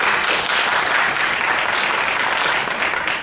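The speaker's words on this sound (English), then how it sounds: "Stop that applause." Audience applause at a congressional candidates forum, a steady wash of many people clapping at a moderate level that holds and then begins to taper at the end.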